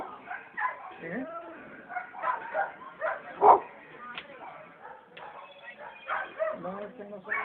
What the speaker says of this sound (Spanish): No, es que no son mis perros, son los de allá afuera.